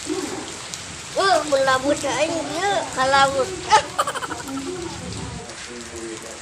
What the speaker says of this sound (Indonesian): Geus hujan deui wae wayah kieu.